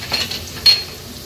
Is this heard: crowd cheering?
no